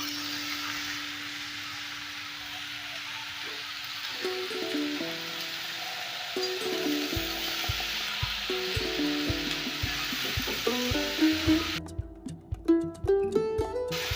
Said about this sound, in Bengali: এবার আমি পুঁই শাক আর ডাঁটাটা দিয়ে দিলাম।